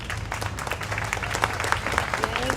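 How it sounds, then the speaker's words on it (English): An audience at a gathering gives a steady round of applause, a continuous patter of many hands clapping at moderate distance with faint crowd murmur. "Give yourselves a round of applause."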